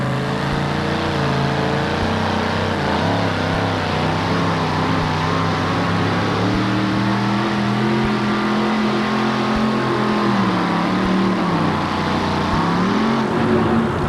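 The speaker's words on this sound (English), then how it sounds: "Wayne Roush also has trouble getting hooked up off the line, but manages to make it almost to the 270-foot mark." A two-wheel drive pickup truck makes a truck-pulling run at an NTPA Grand Nationals competition in Syracuse, its engine roaring loudly and steadily throughout and rising in pitch near the end.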